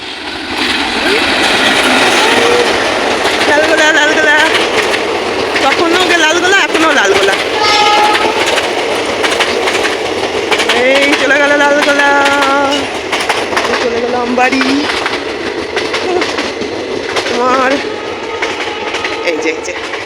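A train rumbles past close by with clattering wheels and metallic squeals rising and fading, while people talk over the noise.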